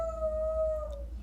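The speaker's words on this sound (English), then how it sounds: "I'm sorry if you're hearing my dog bark in the background" A pet dog howls in a home, one sustained mournful tone that sags slightly in pitch before fading, heard at a moderate distance against a low background hum with no talking.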